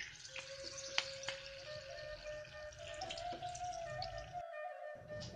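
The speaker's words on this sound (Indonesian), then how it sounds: "Goreng dengan minyak yang panas ya" Anchovies frying in hot oil over a switched-off flame, a soft, constant sizzle and crackle heard up close with a faint tonal hum running through it, steady throughout before briefly thinning near the end.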